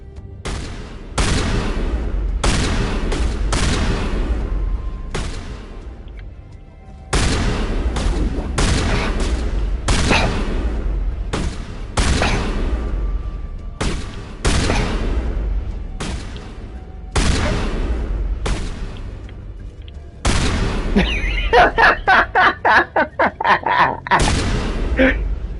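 Shotgun fire in a Mass Effect 1 Legendary Edition battle: a long run of loud, booming blasts with short gaps between them, ending in a fast rattling burst of rapid shots.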